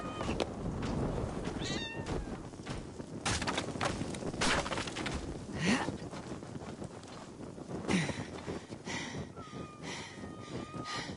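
Cats meow repeatedly in Assassin's Creed Valhalla, several high calls rising over a steady windy outdoor ambience with faint rustling and movement, no talking.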